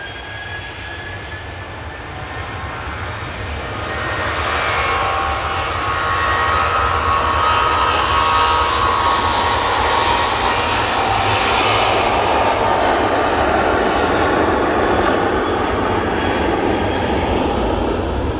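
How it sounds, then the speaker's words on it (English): A Ryanair Boeing 737-800 accelerates down the runway at Manchester Airport on its takeoff roll, a broad jet roar that builds after a few seconds and then holds steady and loud, heard from a fair distance with no talk. "Ryanair 737 800 now on the roll"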